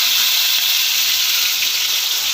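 Two large chopped onions hitting hot oil for a Tamil chicken sukka dish, a loud, dense, steady hiss of sizzling that fills the short moment without pause.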